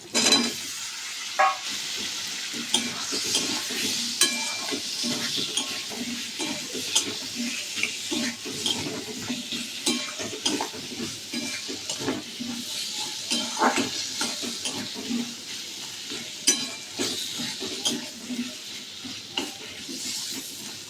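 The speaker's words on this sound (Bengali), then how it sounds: "এখন আমার আলুটা ভালো করে ভাজা হয়ে গেছে" Diced potatoes fry in a pan with a constant sizzle while a utensil stirs and scrapes them in frequent irregular strokes, close and fairly even in loudness.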